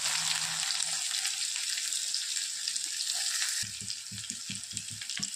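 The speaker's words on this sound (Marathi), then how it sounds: "आहे तेल गरम झाले एक चम्मच जिरे कांदा" Cumin and chopped onion hitting hot oil in a pan give a loud, steady sizzle up close, which drops partway through into quieter frying broken by a series of soft stirring knocks.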